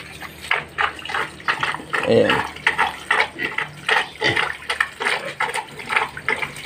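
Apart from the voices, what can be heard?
water being poured over a sow to bathe her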